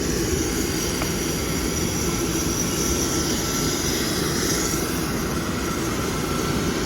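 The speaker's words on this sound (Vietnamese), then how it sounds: "Máy bay đang đi." A Boeing 787-9 airliner's jet engines give a steady, loud broadband roar that runs unbroken throughout, with no voices heard.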